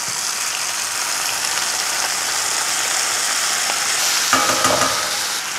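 Broad steady sizzle of stir-frying in reused frying oil for dendeng batokok, a dense continuous hiss with faint clinks from a utensil near the end, close and loud with no talk.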